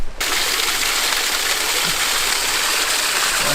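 A river runs over icy rocks in winter at a Civil War-era town, its water rushing with a steady, close hiss that holds constant without pauses.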